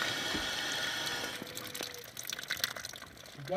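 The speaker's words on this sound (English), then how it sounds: "You hear water leaking up underneath your house" Water runs and splashes beneath a bathtub as it drains, leaking from the drain underneath a house, a close trickling gush that thins out over a few seconds.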